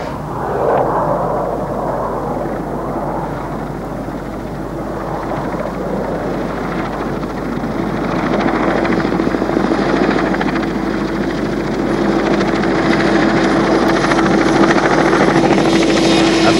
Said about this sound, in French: Notre hélicoptère a-t-il arrêté ses moteurs que nous assistons au décollage d'un autre appareil qui lui retourne à Manhattan.